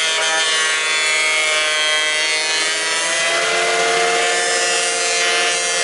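Loud, continuous roar of a cheap thickness planer feeding lumber boards through its rollers, a dense steady mechanical whine with grinding wood texture throughout, close and unbroken.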